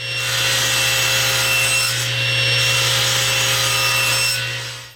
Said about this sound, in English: we're going to cut it out of a piece of 2-inch diameter black ABS dowel